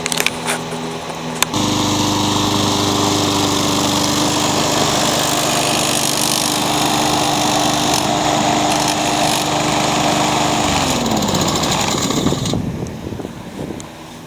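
A Craftsman lawn mower with a Honda engine, freshly fitted with a replacement carburetor, starting and running at a loud steady drone close by, then winding down as it shuts off, with no talking.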